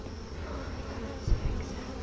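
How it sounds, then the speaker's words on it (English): Honeybees hum continuously from a full hive box, close and steady, with a soft thump of handling near the middle. "we've got a full box of bees"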